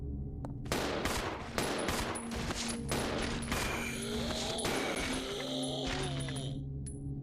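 Gunfire rattles in the video game Resident Evil 0 HD, with dense blasts and rapid shots over a steady game soundscape, followed by a warbling, growling creature sound near the end.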